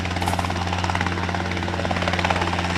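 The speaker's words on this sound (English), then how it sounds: "his helicopter about to take off" Helicopter on a hemp farm near Griffith, idling just before takeoff with a loud, close, steady rotor thump and a strong low engine hum throughout, with no talk over it.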